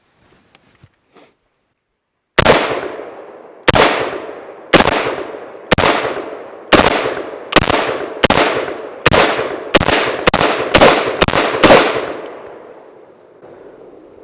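A Rhodesian FAL rifle fires twelve loud, sharp shots outdoors, spaced at first and then coming faster, each crack trailing a short echo, after a few faint clicks of handling.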